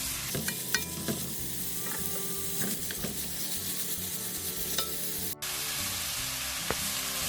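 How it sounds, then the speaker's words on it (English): Pork stir-frying in a heated pan gives a constant, close sizzle with occasional scrapes and clicks of stirring, and the sound shifts briefly partway through. "Let's stir fry it. After heating pan, put the pork into the pan."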